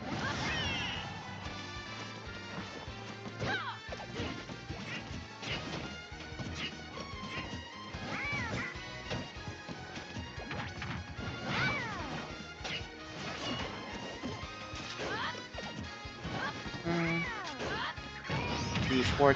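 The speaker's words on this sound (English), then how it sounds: "The forward smash." Forward smash attack in a Super Smash Bros match, with repeated sharp crashing hits and whooshes scattered over dense game music and effects throughout.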